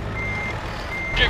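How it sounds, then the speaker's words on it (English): A loud truck reversing in the game Casual Truck gives off a steady, single-pitched backup beep, held up close over a low engine rumble. "this very loud truck kind of stepped over you"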